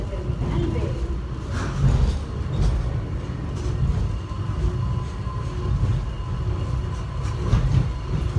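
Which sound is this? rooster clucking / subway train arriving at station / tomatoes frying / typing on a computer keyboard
subway train arriving at station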